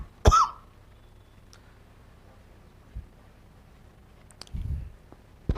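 A man gives one sharp, close cough followed by quieter throat-clearing sounds a few seconds later, in an otherwise quiet room.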